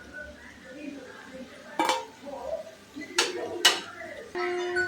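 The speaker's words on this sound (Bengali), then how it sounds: "এবার একটা প্লেট নিয়ে নিব, অল্প অল্প করে আস্তে আস্তে করে তুলে নিব।" Fried lentil fritters lifted from a pan onto a plate, with a few scattered clinks and taps of utensil against metal and plate, faint frying in the background and a short tonal ring near the end.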